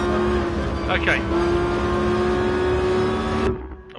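A race car engine in the Gran Turismo Sport video game, driven with a wheel, holds a steady droning hum at constant revs before cutting off abruptly near the end, with someone talking over it.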